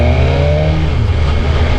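A 2021 BMW S1000RR motorcycle engine holds loud and close against its activated rev limiter, a steady high drone with a slight pitch drop partway through.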